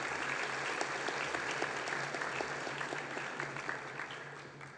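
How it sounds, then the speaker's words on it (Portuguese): Audience applause at an industry forum session, steady dense clapping from a hall crowd that holds evenly throughout and fades slightly at the end, with a low background hum. "Uma salva de palmas."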